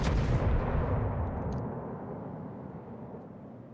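A heavy naval gun salvo from the battlecruiser Derflinger in World of Warships, one booming blast at the start that rolls away into a long, low, rumbling decay with no talk.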